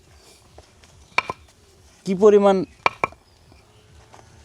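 A concrete block, wetted with water, rapped by hand to test its strength: two pairs of sharp, close knocks, with a voice speaking briefly between them.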